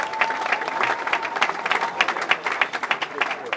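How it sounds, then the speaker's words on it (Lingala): Audience applause breaks out at a Congolese political party gathering, a dense run of clapping from a crowd heard up close, with a voice talking over part of it. "Il faut les applaudir."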